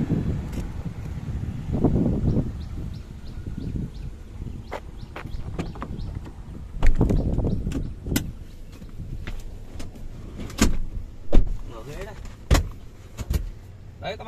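Car weaving along a road, a low engine and road rumble with wind noise, under someone talking through most of the drive, with occasional clicks and knocks inside the cabin.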